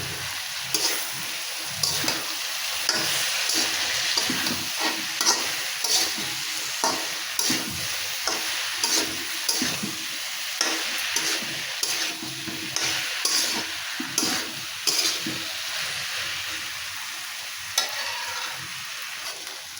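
Okra stirred in a frying pan over steady sizzling oil, with regular scraping stir strokes repeating every second or so, close and fairly loud, no voices.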